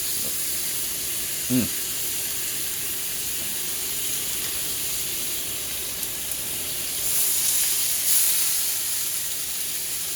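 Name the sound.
butter herb mixture sizzling on steak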